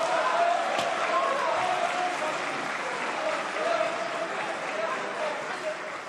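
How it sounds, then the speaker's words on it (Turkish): Applause in the Turkish parliament, a steady, moderately loud bed of many hands clapping that holds for about six seconds, with a voice speaking over it. "Biz de bu grubu alkışlıyoruz arkadaşlar"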